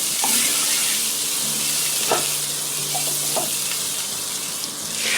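Spices sizzling and frying in hot oil in a pot with red chilli powder, salt and turmeric for a goat trotter paya curry, a steady close crackle with a few stirring scrapes, no voices.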